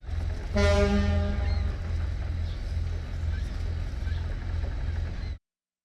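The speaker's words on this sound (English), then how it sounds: "Listen to the boat horn sound again." A deep boat horn blasts once, loud and sustained for several seconds over a steady low rumble, then cuts off abruptly.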